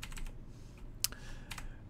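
Fast typing on a computer keyboard, a run of light clicks followed by a sharper keystroke and a few more taps, close and clear with no talking.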